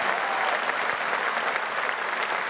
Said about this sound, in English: I just want to take 2 minutes and give this man a round of applause.